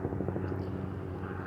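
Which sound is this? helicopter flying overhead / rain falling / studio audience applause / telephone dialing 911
helicopter flying overhead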